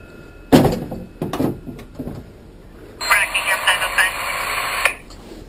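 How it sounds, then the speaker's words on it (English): Knocking on a bathroom door inside a horror video game, a few loud, close knocks in separate bursts, followed by a crackling, garbled ghostly radio transmission. "that's a full-on knock on the door, bro"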